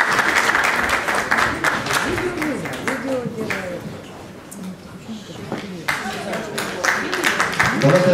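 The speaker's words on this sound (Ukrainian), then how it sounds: "Давайте аплодуємо" An audience at a university staff award ceremony applauds continuously, a dense wash of many hands clapping, steady and fairly loud throughout, with a host's voice speaking over it.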